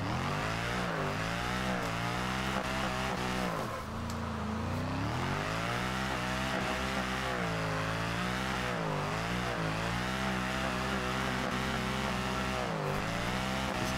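A Mercedes C63 AMG V8 in the Forza Horizon 2 racing game revs hard and continuously, the deep engine note rising and falling through gear changes with a brief dip midway, loud and alone.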